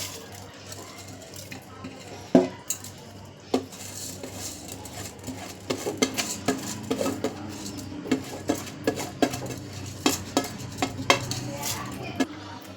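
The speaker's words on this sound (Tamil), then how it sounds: "அரிசியெல்லாம் போட்டாச்சு." Soaked parboiled rice tipped into a pot, with scattered clinks and scraping of a spoon against metal, a few sharper knocks among steady soft stirring and faint sizzling, close by with no talk.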